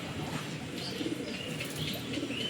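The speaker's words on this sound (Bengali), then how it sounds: "পায়রাটাকে ছেড়ে দেখাচ্ছি।" A pigeon released from the hand, its wings flapping in short fluttering bursts over a soft background murmur, fairly close and moderately quiet.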